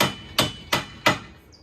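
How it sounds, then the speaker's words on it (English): A soft mallet whacks stuck cage bolts in three sharp, evenly spaced strikes, each a loud close thud with a quick decay, followed by a brief faint high ring at the end. "Just whack it with a soft mallet"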